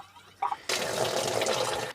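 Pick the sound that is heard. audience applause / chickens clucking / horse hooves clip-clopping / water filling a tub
water filling a tub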